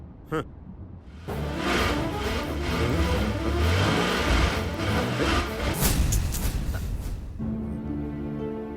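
A car engine runs loudly with revving under continuous noise, then cuts out abruptly near the end, leaving a quieter low hum.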